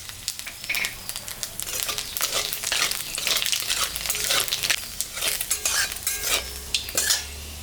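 Black cumin seeds and dried red chillies tempering in hot oil in a home kitchen, a steady close crackle and sizzle punctuated by scraping and clinking of a utensil stirring in the pan, with no talking.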